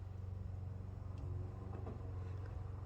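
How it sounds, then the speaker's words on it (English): A steady low lawnmower engine drone hums continuously, a small motor running nearby with a rough, even rumble and no voices. "I apologize for the lawnmower."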